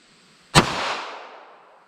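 A .380 ACP pocket pistol loaded with Winchester Silvertip fires one sharp, loud shot, and the report rings out and fades over about a second.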